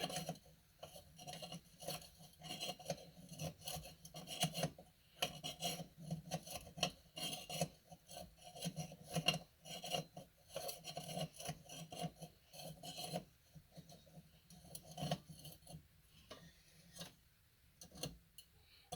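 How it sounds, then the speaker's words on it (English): A nut on the valve of a Coleman 220E lantern being tightened, giving repeated rasping, scraping strokes with small ticks, close and fairly quiet, continuing steadily with no talking. "Now we're going to tighten this nut."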